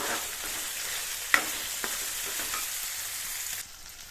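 Onions frying in a pan for a chicken curry with fenugreek, a soft steady sizzle with a few sharp stirring clicks and scrapes, fading lower toward the end.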